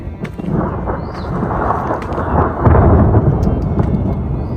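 A thunderstorm rolls through with rain, deep thunder rumbling loudly over a constant wash of rainfall and growing heavier partway through, with no voices.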